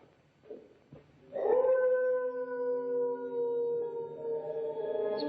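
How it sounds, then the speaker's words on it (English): Long mournful howl of what is thought to be a dog caught in a trap at night, rising after a few faint whimpers and holding as a sustained wavering wail, distant-sounding and eerie. "It's probably a dog caught in a trap."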